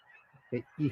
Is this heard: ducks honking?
yes